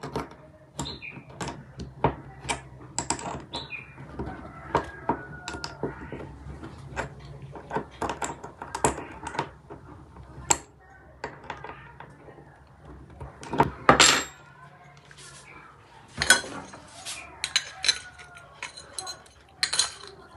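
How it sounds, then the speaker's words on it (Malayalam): A nut is tightened with a 7 mm spanner while a motor base is fitted to an egg incubator tray. Sharp metallic clicks, taps and clinks come in irregular bursts with quiet pauses, and there is faint background sound. "ഏഴിൻ്റെ സ്പാനർ ഉപയോഗിച്ച് ഇതൊന്ന് ടൈറ്റ് ചെയ്ത് കൊടുക്കാം"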